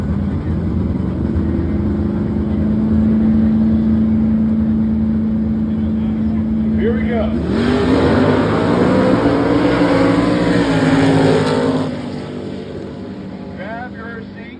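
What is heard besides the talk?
drag racing: dragsters and door cars launching at Gulfport Dragway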